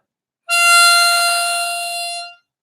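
A single sustained draw note on hole 5 of a diatonic harmonica, loud and close, starting abruptly, holding steady about two seconds and fading slightly before cutting off.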